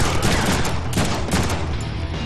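Loud, continuous gunfire in the Deadpool video game, rapid overlapping shots and impacts mixed with game effects, filling the whole moment.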